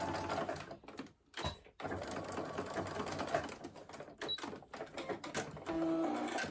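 A domestic sewing machine stitching across the top of fabric darts on a crossbody bag, running in steady bursts of rapid mechanical whirring with short pauses between, close up and fairly quiet.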